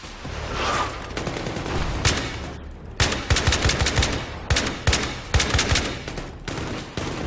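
Bursts of rapid gunfire in the Xbox 360 game Blackwater crack out in quick volleys, loud and close, with short pauses between rounds and a steady background rumble.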